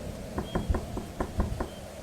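Knocking on a door, about seven soft, evenly spaced raps over two seconds against a faint steady background, with no voices.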